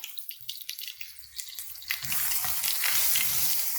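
Ginger-chili and garlic paste sautés in a pan with curry leaves, starting with scattered stirring scrapes and pops, then swelling into a loud, steady sizzle for the second half.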